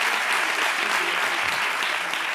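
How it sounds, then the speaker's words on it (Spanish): A television studio audience on a Spanish late-night talk show applauds loudly and continuously, a thick wash of clapping with a few faint voices mixed in. "Un aplauso para esta chica"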